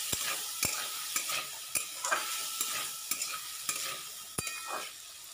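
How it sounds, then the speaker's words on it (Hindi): Soaked chickpeas frying with spices in a pan for a village-style lunch, a continuous close sizzle with regular spatula strokes and sharp taps against the pan, no talking. "इधर मैंने चना भिगो के रखा था उसको डाल दे रही हूँ, चना को भी मसालों के साथ फ्राई कर लूँगी।"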